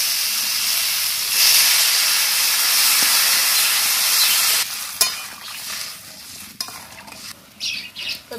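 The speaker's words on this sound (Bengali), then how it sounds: "এবার আমি জলটা দিয়ে দেবো।" Water poured into hot spice paste frying in a pan for a Bengali rohu fish curry with cauliflower and potato, giving a loud steady sizzling hiss that drops off into softer bubbling with a few clinks of a spoon.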